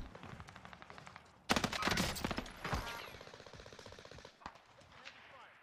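Gunfire in a Call of Duty Warzone match on Caldera, sniper shots cracking in amid rapid bursts, loud close rounds around the middle over a steady backdrop of game noise, with players talking throughout.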